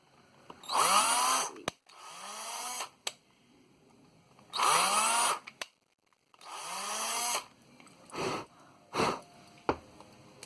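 A power drill re-drills a Cabbage Patch doll's head in several short bursts, each spinning up and winding down, separated by brief pauses and small clicks.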